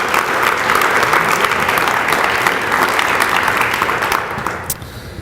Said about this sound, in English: So if I could give a hand of applause to the spouses that are with us here too.